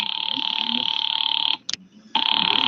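An old-fashioned telephone bell rings loudly in a radio drama, a sustained buzzing ring that cuts off briefly and resumes, close and dominant.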